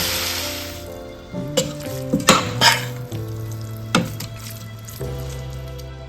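Soya chunks are stirred and dry fried in coconut oil in a pan, with a steady sizzle broken by several sharp scraping and clattering stir strokes, close and fairly loud.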